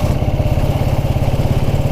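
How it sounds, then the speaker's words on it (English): A 1929 Ariel motorcycle with a low-compression engine runs steadily up close, its rapid, even exhaust thump pulsing without a break and no voices over it. "it's a very low compression engine, it's only 6:1 compression ratio."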